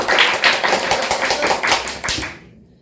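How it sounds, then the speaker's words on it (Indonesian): Audience clapping at a community talk about futsal, with a burst of fairly close hand claps of uneven rhythm that fades out and stops near the end. "Kita beri tepuk tangan."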